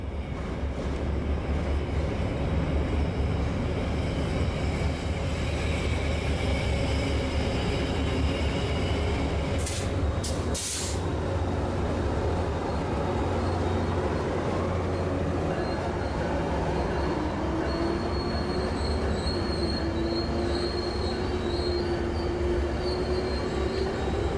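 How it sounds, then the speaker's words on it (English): NMRX 719, a Rail Runner passenger train, pulls into Alvarado station at night with a loud continuous rumble of wheels on rails, steady throughout, broken by a sharp brief hiss and joined later by rising wheel squeal as it slows. "NMRX 719 rolled into the Alvarado station"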